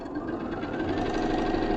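A sewing machine stitches pieces of a quilt block together, a steady close mechanical whirring and rapid rhythmic knocking that runs continuously and fairly loud, with no talk.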